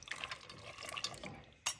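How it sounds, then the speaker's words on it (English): Water is poured from a vessel into a pot of dry pasta for a creamy red sauce dish, a short gurgling trickle with a brief splash at the end, fairly quiet with no talk. "water just so that the pasta is covered"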